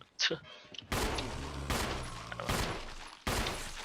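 Gunfire in the Resident Evil remake as Chris shoots a zombie in the head: four loud, sharp shots in quick succession, each with a short booming tail, after a brief faint sound at the start.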